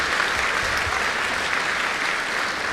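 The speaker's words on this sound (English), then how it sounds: "Let's give one more big round of applause for our lower school students and their performances." An audience at a school event applauds lower school students after their performances, a steady, dense burst of clapping from many hands filling a hall, with no voices over it.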